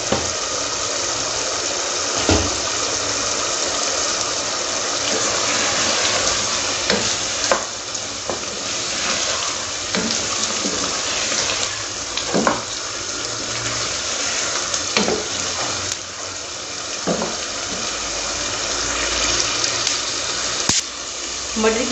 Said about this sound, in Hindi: पहले हम मटर और कीमा जो है उसको भून लेते हैं हम